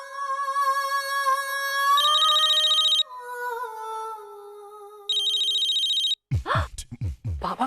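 A telephone rings in a home in an Indian TV family drama, a steady electronic ringtone in two loud bursts with background music between them, followed by a voice speaking.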